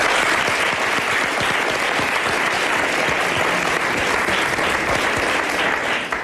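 Loud, dense studio audience applause for tennis player Ágnes Szávai, two-time Roland Garros junior champion, sustained evenly and continuously with many hands clapping close by.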